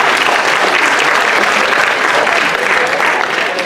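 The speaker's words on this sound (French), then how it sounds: "On l'applaudit." Audience applause at a live hypnosis show for a Miss Villeurbanne election, dense steady clapping from a crowd throughout, loud and close with no talking over it.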